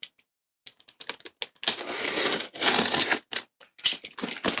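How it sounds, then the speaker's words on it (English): A blade slitting open a cardboard shipping box, with sharp scratchy tearing strokes in short bursts and longer ripping passes, close and fairly loud. "So let's go ahead and cut this open."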